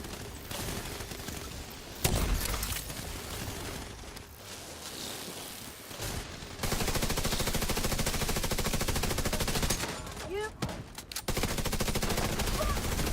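Gunfire in the video game The Division: repeated bursts of automatic weapon fire, sometimes long rapid stretches and sometimes short choppy volleys, loud and close, with a voice talking at times.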